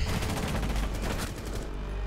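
Rapid gunfire in a first-person shooter video game comes as a dense, loud burst of overlapping shots lasting about two seconds, with no talking.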